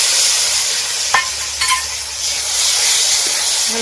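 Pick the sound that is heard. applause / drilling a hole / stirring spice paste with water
stirring spice paste with water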